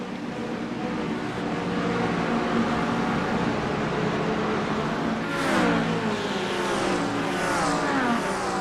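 Race cars on the opening laps of an AARS season race at Road America roar into turn one under heavy braking, engines loud and continuous, with pitch sweeps as cars downshift and pass close by.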